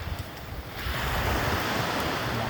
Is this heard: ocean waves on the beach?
yes